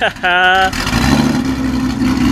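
A Ford GT500 with a Ford Racing axle-back exhaust blips its engine once in a sharp, loud rev, then settles into a deep rumbling idle close by while someone talks over it.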